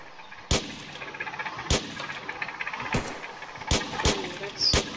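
Sharp single gunshots from a gun in a video game set in the Korean Demilitarized Zone, six loud isolated cracks at irregular intervals over a low steady background rumble.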